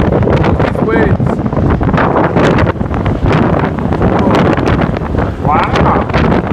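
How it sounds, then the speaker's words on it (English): Strong wind buffets the microphone on a cruise ship deck, a loud, continuous roaring rumble with gusty surges, while a person speaks briefly over it. "It's super windy outside."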